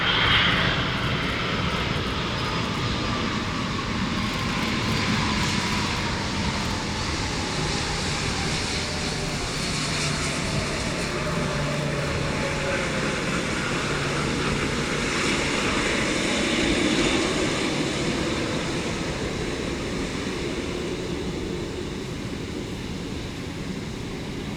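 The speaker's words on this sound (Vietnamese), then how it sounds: "Chiếc máy bay hạ cánh xuống đường băng 25 phải sân bay Tân Sơn Nhất." Vietnam Airlines Boeing 787-10 Dreamliner landing on runway 25R at Tan Son Nhat airport, a steady broad jet roar with a slowly falling whine, heard from a distance and holding at an even level throughout.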